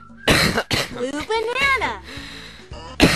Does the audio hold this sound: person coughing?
yes